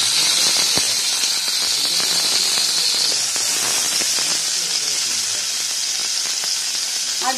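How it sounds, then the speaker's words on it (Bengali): Chopped green chilies hit hot oil in a pan with a loud, bright, continuous sizzle and spattering crackle that stays close and intense, easing only slightly over several seconds. "এবারে এর মধ্যে দেব কাঁচা লঙ্কা কুচি"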